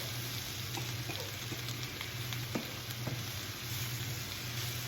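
Spinach wilts in a pan as it is stirred alongside shrimp, with a steady low sizzle and a few faint clicks of a utensil, close and even throughout.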